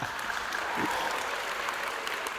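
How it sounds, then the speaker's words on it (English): An audience at an energy-day debate event claps for one of the organizers, a short, fairly soft burst of scattered applause heard from across the room. "Give him an applause."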